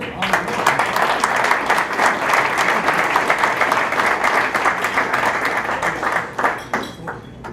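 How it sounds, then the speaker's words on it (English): Audience applause at an award ceremony, a dense, sustained burst of many hands clapping that tapers off with a few scattered claps at the end. "How about one more round of applause"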